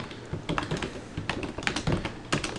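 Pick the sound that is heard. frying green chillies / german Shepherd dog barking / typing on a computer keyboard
typing on a computer keyboard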